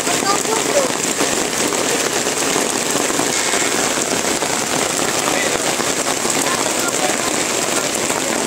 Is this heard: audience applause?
no